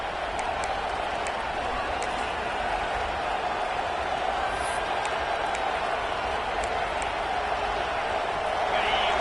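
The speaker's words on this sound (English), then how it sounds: "This crowd, full throat, spreading the eardrums and letting them know it's going to be a long day" A college football stadium crowd at a Tennessee versus Penn State game roars steadily, a broad wash of distant voices and noise that holds at an even level throughout.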